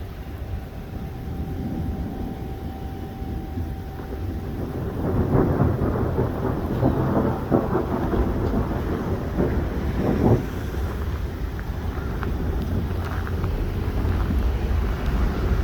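A severe thunderstorm over Montreal brings steady heavy rain and wind, with long rolling thunder building and rumbling through the middle, plus a sharp nearer crack a little later, all without voices.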